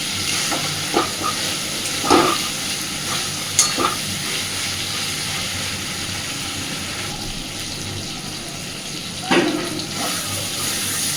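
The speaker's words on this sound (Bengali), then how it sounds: "আলুটা দেওয়ার পরে মিনিট দুই তিনে মশলার সাথে একটু কষে নেব" Potatoes being sautéed with spice paste in a pan for an egg and poppy-seed dish, with a steady low sizzle and a few sharp spatula scrapes and clinks spaced apart.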